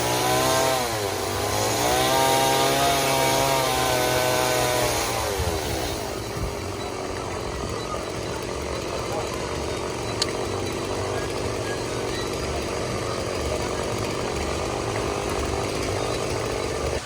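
A chainsaw carves wood art at a Dollywood harvest festival, the artist being from Kodak, Tennessee. It revs loudly and close by, its pitch rising and falling for several seconds, then settles into a long, steady cutting drone with no talking.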